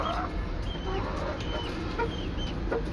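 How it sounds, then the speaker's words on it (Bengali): Laying hens on a poultry farm, a scattered chorus of clucks and short calls over a constant dense farm noise, moderately distant and continuous. "ফার্মে মুরগির ডিম পারছে"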